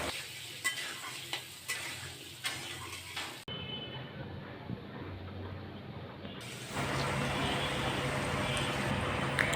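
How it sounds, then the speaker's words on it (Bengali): Potato pieces frying in oil with salt and turmeric, a steady crackling sizzle broken by rhythmic scraping of a stirring spoon, and the sizzle grows louder and denser toward the end. "আলুটাকে লাল করে ভেজে নিলাম"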